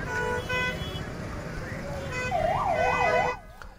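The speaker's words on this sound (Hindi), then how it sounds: "अब ये एम्बुलेंस फंसी हुई है" An ambulance stuck in a heavy traffic jam on a ghat road wails its siren, rising and falling up close over a busy traffic din, with speech heard around it.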